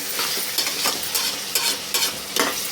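Onions fry in oil for a goat head curry with a bright, constant sizzle, broken by several evenly spaced scraping stirs of a spoon against the pan, close up and without speech.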